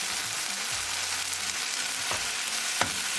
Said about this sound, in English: we're going to mash the potatoes really well along with peas